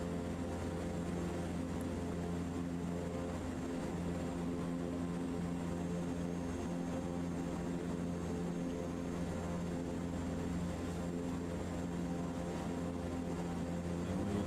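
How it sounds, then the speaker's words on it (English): Propeller aircraft engine in Microsoft Flight Simulator 2024 holding a steady, continuous drone with a strong low hum, loud and unbroken throughout with no voices. "So we will throttle out of here."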